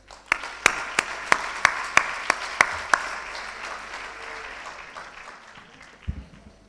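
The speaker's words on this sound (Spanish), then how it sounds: "Les pido, pues, que reciban con un cálido aplauso al padre Fermín" Audience applause for a speaker at a national congress, opening with sharp individual claps that swell into a full, sustained round of clapping, then tapering off toward a quiet end.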